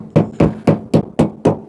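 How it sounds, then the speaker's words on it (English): A tyre iron knocks on the bodywork of a Proton Saga Iswara recovered from a field, testing the rear quarter panel: six loud, evenly spaced metallic thuds, close by, with no talk. "I'm going to start the knocking"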